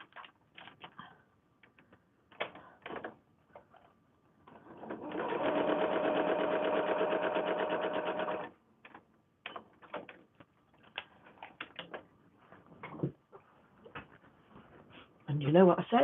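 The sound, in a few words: sewing machine stitching a foundation paper pieced quilt block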